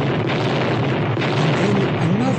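Radio-drama explosion effect for a burning ship, a continuous heavy roar and rumble with faint tonal wisps running through it, loud and steady throughout.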